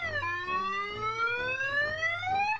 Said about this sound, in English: The car alarm starts blaring throughout the neighborhood,